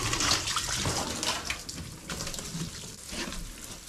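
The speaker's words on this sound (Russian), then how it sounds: "Давай наберем воды." Water running steadily into a bucket, a continuous broadband splashing rush that stays fairly loud throughout, with no talk over it.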